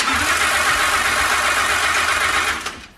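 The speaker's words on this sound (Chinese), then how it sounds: "车子哼唧了几次就是启动不了" A wrecked Audi R8 supercar cranks repeatedly without firing, a loud steady whirring starter drone that runs for a few seconds and then winds down, with no talking.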